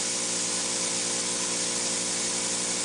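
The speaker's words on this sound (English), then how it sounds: "As you can see, the water is starting to flow out, and then this will soon turn into having the product come out." A flex head pole spray gun, used for ceramic insulation coatings, sprays water in a constant loud hissing rush that holds steady throughout with no pauses or voices.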